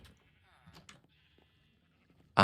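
Sheep bleating on an overcrowded Minecraft sheep farm, scattered faint bleats through the first part, then one loud, close bleat at the very end.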